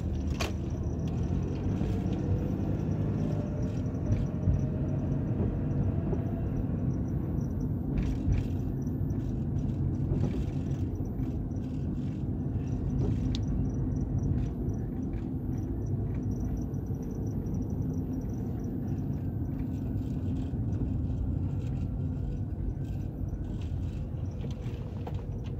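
A car drives through a residential neighbourhood in Montgomery, its low road rumble and engine drone steady and close from inside the cabin for the whole stretch. No one talks.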